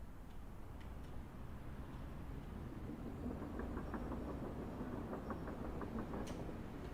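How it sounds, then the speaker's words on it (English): A train rumbles through a city scene in the flight simulator game Microsoft Flight Simulator 2024. The rolling is low and faint, with quiet rhythmic clicks of the wheels rising toward the end. "Train."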